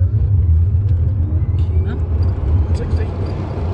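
A 600 hp Tesla-powered, 1000 kg VW Beetle launching hard in a 0-60 run, with a loud, steady low rumble and road roar throughout and faint tyre noise above.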